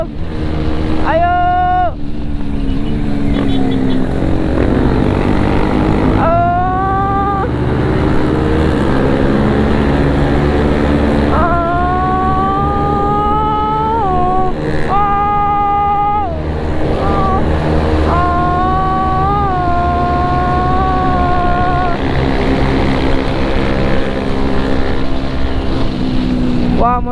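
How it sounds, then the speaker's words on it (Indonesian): A 160 cc motorcycle engine screams at full throttle on a night ride from Bandung to Garut, chasing a 250 cc bike. Revs climb again and again through gear shifts, loud and close over heavy wind rush, with occasional shouting. "Motor saya nafasnya sudah habis karena cuma 160 cc, tapi maksa buat ngejar 250."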